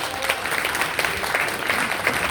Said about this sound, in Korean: 우리 뜨겁게 박수 한번 드리겠습니다